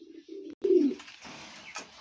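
Racing pigeons in a breeding loft coo up close, with a few low, throaty murmured coos and soft rustling and faint chirps between them.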